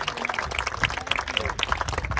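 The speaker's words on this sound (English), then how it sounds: "Give them a round of applause for everything they do." Audience applause at a 9/11 remembrance event with fire department members, a short burst of scattered clapping heard fairly close, mixed with some crowd voices.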